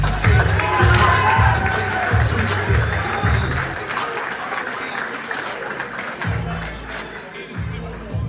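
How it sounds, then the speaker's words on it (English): Crowd cheering and clapping at a Liverpool boxing weigh-in at the M&S Bank Arena, a loud sustained roar of a large indoor audience with a commentator talking over it throughout. "biggest cheer of the day so far"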